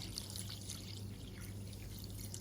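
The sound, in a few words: water poured onto sugar for homemade honey syrup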